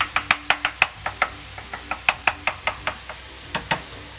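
Minced meat is broken up in a frying pan for a layered béchamel lasagna: a quick run of sharp spatula knocks against the pan, uneven in rhythm, over a faint low background.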